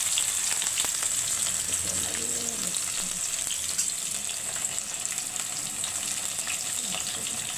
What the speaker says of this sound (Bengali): এবার একটু নাড়িয়ে নিয়ে আমি এই ডাঁটা পোস্তটা ঢেলে দিলাম।